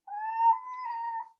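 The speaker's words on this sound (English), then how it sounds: "I have a cat here, new cat, so he's a little hyperactive" A newly adopted, hyperactive cat gives a single drawn-out meow of just over a second, close and clear in an otherwise quiet indoor room.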